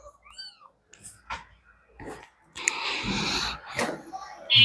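Tiny kittens give a few high, thin meows near the start, followed by rustling and breathy handling noise with a voice speaking nearby.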